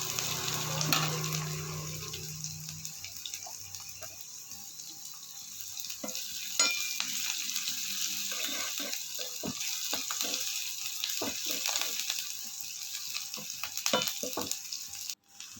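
Chopped small onions and curry leaves sauté in a pan with oil for a fish dish, making a steady, close sizzle with repeated scraping stir strokes throughout. No one talks over it.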